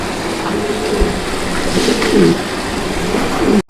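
Mondain pigeons coo softly in a loft, low rolling calls repeating over steady background noise, with no talking.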